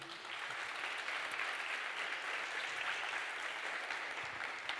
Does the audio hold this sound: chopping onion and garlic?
no